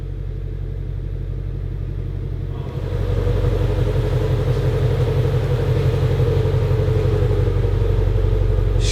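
A 2018 Ford Mustang Shelby GT350 engine, rebuilt after a wreck, catches and settles into a loud, steady, deep idle rumble. A quieter cranking or idle phase comes first, then the sound jumps up after a few seconds and holds.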